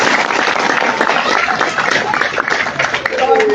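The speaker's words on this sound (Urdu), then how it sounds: "پہلے تو آئی ایل ایف کے لیے تالیاں بجائیں" A seated crowd of workers at a political gathering applauds ILF, a sustained wash of clapping that holds for several seconds, with voices mixed in.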